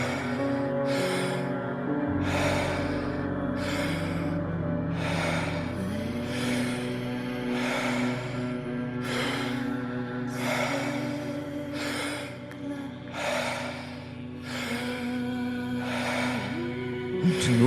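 Intense rhythmic breathing in a guided rebirthing breathwork session, with repeated forceful inhales and exhales in a steady cycle, close and continuous over a low sustained musical drone.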